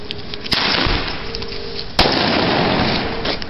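Two sharp New Year's Eve firework bangs a second and a half apart, each followed by a long crackling hiss, loud and close outdoors.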